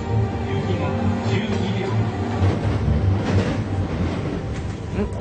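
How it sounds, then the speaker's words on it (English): A train rumbles along the rails toward Amagasaki station with a constant low roar and rattling, loud and close as if heard from inside a carriage. "The train hurtles towards Amagasaki station."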